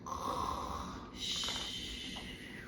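A person imitates snoring, two drawn-out breathy snores close and fairly quiet, each a long rasping inhale.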